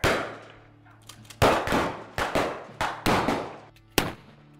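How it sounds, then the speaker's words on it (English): Gunfire on the set of a Texas Chainsaw horror film: a string of sharp, loud shots and cracks fired in uneven bursts, each ringing briefly before the next. "A lot of gunfire, man."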